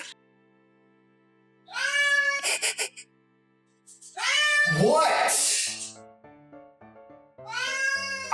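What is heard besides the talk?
cat meowing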